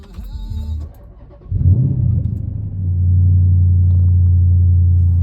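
A Yamaha Mio-style scooter that starts hard despite a good battery: the starter grinds briefly, cuts, then cranks again until the engine catches and settles into a steady, loud idle.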